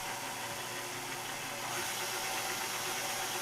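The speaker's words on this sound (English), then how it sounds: "And now using the whisk attachment, drop it on in and let it rip on medium speed until stiff peaks form." A stand mixer with a whisk attachment whips cream at medium speed, a steady, dense motor whir with constant whisking noise that holds level throughout, close and loud, with no voices.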